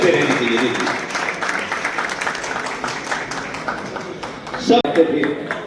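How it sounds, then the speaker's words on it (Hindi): A crowd at a Punjabi community gathering claps in a steady round of applause, moderately loud, with a voice talking over it and a sharp knock near the end. "तालियां बजते रहनी चाहिए।"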